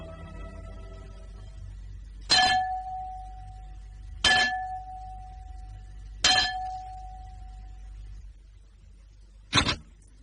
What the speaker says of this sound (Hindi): तुमने ये घंटा बजाया है?